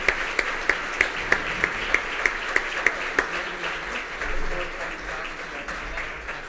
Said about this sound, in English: I'd just like to lead a round of applause for our panelists here